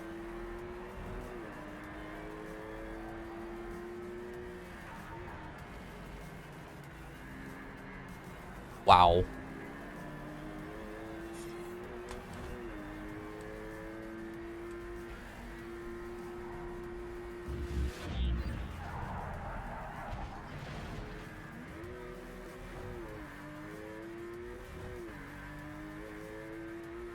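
Race car engines in the video game Project CARS 3, starting a point-to-point race: a steady engine whine climbs and drops through gear changes, mixed with a person speaking, a sharp loud burst midway and brief bumps later.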